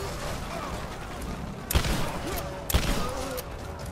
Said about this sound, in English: This gun's got pretty good range.